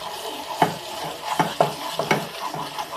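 Spiced masala being stir-fried for spicy country chicken (deshi murgir jhal) in a pan, with steady close sizzling broken by several sharp scraping stirs of a spoon against the metal, no talking.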